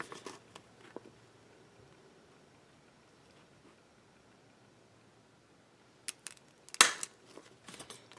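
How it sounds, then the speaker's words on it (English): Scissors cutting a half circle out of laminate sheet, a few quiet snips at first, then a cluster of crisp, close cuts near the end. "I'm just going to cut a half circle out on both ends of the laminate"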